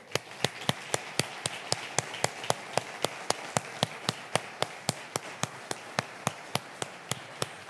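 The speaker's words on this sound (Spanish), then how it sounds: "Démosle un fuerte aplauso." Sharp, evenly spaced single claps at a church service, about three per second, crisp and fairly quiet, with a faint room hum beneath and no voices.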